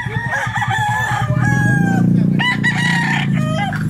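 A rooster crows loudly and close by, one long drawn-out call with clucks of fowl around it, at a Filipino gamefowl sale where birds are offered for sale.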